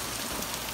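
Heavy rain pouring during a thunderstorm, recorded from indoors as a steady, dense hiss with no distinct thunder in this short stretch.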